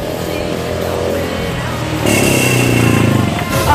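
A motorcycle with a loud aftermarket exhaust roars by close, its rough engine drone swelling sharply halfway through and holding loud to the end.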